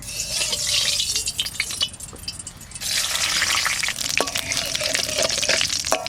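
Bay leaf, cumin seeds and dried chillies frying in hot mustard oil in a kadai for duck curry with ash gourd, a steady close sizzle that rises in a louder burst partway through and holds.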